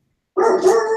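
A household dog lets out a single short, close bark, sharp and tonal, right after a moment of silence.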